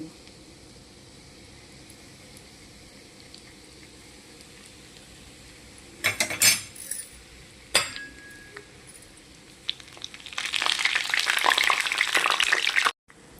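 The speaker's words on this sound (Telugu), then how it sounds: "నెయ్యి వేడెక్కింది, దాంట్లోకి ఇలా బ్రెడ్ స్లైసెస్ వేసి ఎర్రగా వేపుకోవాలి." Bread slices laid into hot ghee in a pan, with a few clinks and scrapes partway through, then a loud, steady sizzle of frying over the final few seconds.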